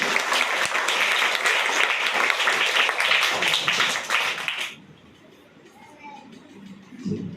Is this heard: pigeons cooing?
no